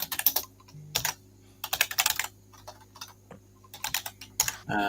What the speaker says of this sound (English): That's why you can hear me typing away.